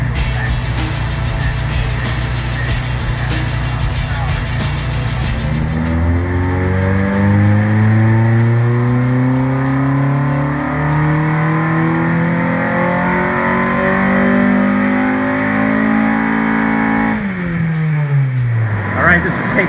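A K-swapped Honda Civic EG revs hard on a dyno, its engine note climbing steadily in a long, loud pull before dropping off sharply near the end, with a voice talking over the run.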